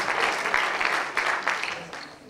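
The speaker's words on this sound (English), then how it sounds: "Give them a big round of applause." An audience at a high school hypnosis show claps in a steady burst of applause, a dense rolling patter of many hands nearby, with a voice speaking over it.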